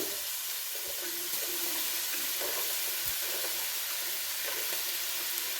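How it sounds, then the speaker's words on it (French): Carrots fry in a pan with a steady, close hiss of sizzling oil that runs throughout, broken by a couple of soft knocks from stirring. "je fais revenir les carottes à la poêle"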